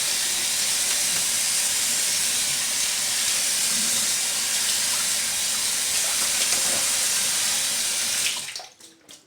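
Tap water running hard into a bathroom sink for a face rinse, a loud, steady hiss and splash that holds for about eight seconds before the flow stops, leaving a few drips and faint handling sounds.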